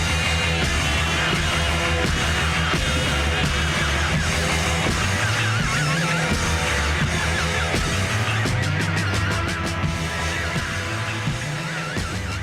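Loud, dense rock recording with a driving bass line under distorted guitars, drums and cymbals, continuous and full throughout.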